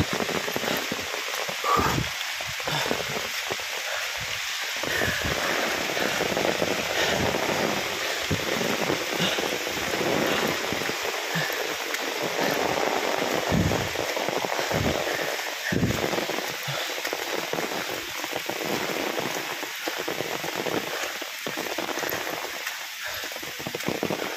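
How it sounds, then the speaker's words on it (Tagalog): Heavy rain pours down steadily in the mountains of Mauban, Quezon, a dense constant hiss of drops hitting surfaces nearby, with no talking over it. "Lakas ng ulan."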